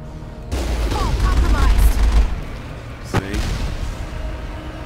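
Enemy gunfire in the Mass Effect video game's Bring Down the Sky mission, near the fusion torch: a dense, continuous barrage of shots and booms with one sharp, louder crack partway through.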